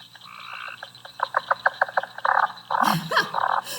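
A leopard frog in a spring chorus gives the second, chuckling part of its call: low, laughing croaks that start as quick clicks, then swell into louder, rougher bursts, close and clear without any voices.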